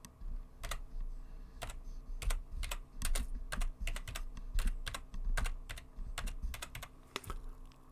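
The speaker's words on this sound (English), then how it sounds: "So you can simply type your content, which I'll do now." Typing on a computer keyboard for note content, a close run of crisp irregular key clicks and taps with brief pauses, steady and alone without speech.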